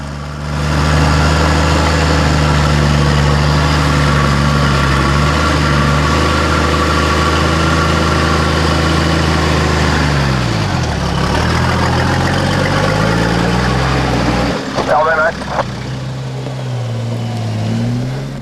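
A 4WD vehicle's engine labours up a muddy hill, a loud, sustained drone whose pitch dips and recovers midway, with a brief clatter near the end.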